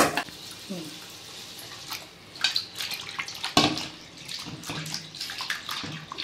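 Mutton pieces being washed in water, with splashing, sloshing and the clatter of meat and a vessel, close by and irregular in rhythm.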